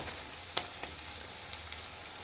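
Mustard seeds, curry leaves, chopped ginger, garlic and chilli sizzle in oil in a pan, a faint steady hiss broken by a few small pops.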